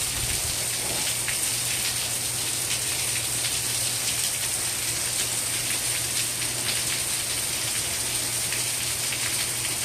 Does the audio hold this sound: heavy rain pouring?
yes